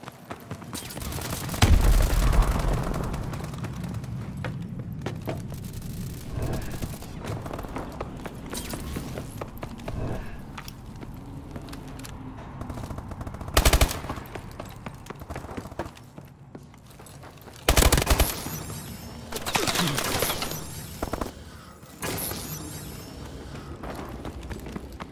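Call of Duty Advanced Warfare match with a frag grenade thrown, loud bursts of gunfire and a few heavy blasts standing out over constant battle noise and scattered game voice callouts.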